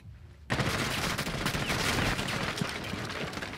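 Light machine gun fire in a first-person shooter video game: after a quiet start, a sudden dense burst of rapid, continuous shots with echoing impacts runs for about three seconds, loud and without speech.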